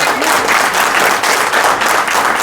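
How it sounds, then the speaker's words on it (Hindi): Audience clapping steadily at a ceremony honouring artists in Bhiwani, a dense, sustained round of applause with a few soft swells, loud and close. "आपकी तालियां थोड़ी सी कम है"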